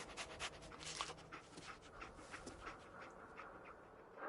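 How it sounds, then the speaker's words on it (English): The dog companion Dogmeat in the video game Fallout 4 pants in quick, rhythmic breaths, fairly close but quiet, with a faint whimper and no talking. "Dog meat. Get the scent, boy."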